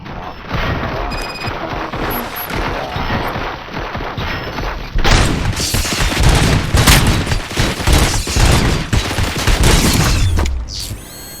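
Dense gunfire from RoboCop: Rogue City, a continuous barrage of shots and crashes that grows louder and heavier midway, layered under game music and effects, then drops away abruptly at the end.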